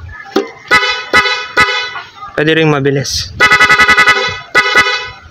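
A Honda ADV160 scooter's PIAA horn, fitted with an interruptor relay, beeps repeatedly in short bursts, including a rapid rattling series of toots, with someone speaking briefly between them.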